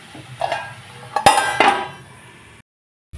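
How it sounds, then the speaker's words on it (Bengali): A metal lid is lifted off a cooking pot of kachu greens, giving a few close clinks and a clattering knock before the sound breaks off into silence. "ঢাকনা তুলে দিলাম।"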